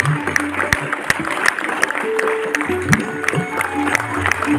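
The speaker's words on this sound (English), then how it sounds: "I think he deserves a standing round of applause" A crowd at a community jubilee celebration gives a standing ovation for a 91-year-old honoree. Dense, continuous applause mixes with loud crowd murmur and voices throughout, with occasional sharp claps standing out.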